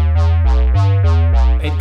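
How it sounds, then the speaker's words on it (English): A saturated, distorted synth bass layered with sub bass, processed through the Punish plugin, plays a loud run of five or six punchy sustained notes in a steady rhythm, each with a gritty bright attack, alone without talk. "and I run it through Punish by Heaviosity to add some saturation and distortion."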